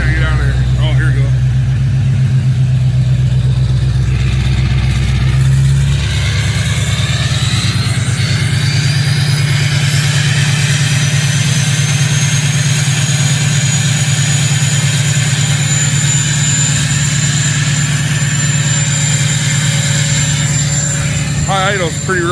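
6.0 Powerstroke diesel truck with a 4 inch straight pipe idling loudly after a cold start, a deep steady rumble with a rising turbo whistle sustained throughout, close up.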